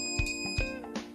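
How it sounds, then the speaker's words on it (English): A PET619 electronic dog training collar gives short tonal beeps, two or three brief pulses within about a second, close and clear over a steady high whine, with no talking. "We'll beep this collar."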